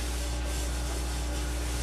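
Paper rubbed across a pan lightly coated with sprayed coconut oil, a steady soft wiping over a continuous low hum, close and fairly loud with no talking.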